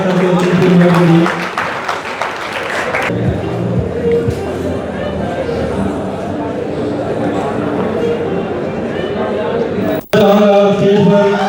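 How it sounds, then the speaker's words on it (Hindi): Loud applause from a crowd at a party welcoming guests onto a stage, sustained clapping and hubbub mixed with music, briefly interrupted and then resuming. "जोरदार तालियों के साथ सबको उनकी इनवाइट करिए"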